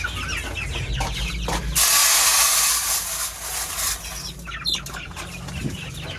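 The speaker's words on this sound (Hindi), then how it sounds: "अब मैं अपने इन मुर्गियों को चूज़ों को दाना डाल लूँ" Chickens and chicks cluck and flutter while grain is scattered for them, with a burst of wing flapping and scuffling near the middle amid ongoing clucks.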